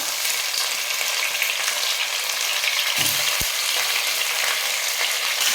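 Chicken frying with onions in a pot for chicken biryani, a dense continuous sizzle that runs steadily throughout, with one brief knock partway through and no talking.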